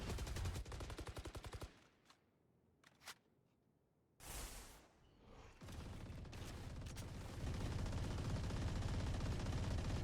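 Rifle gunfire from a first-person shooter played at a collegiate esports nationals match: rapid bursts of shots up front, a lull with a couple of isolated shots, then a heavy blast and sustained dense game action and noise.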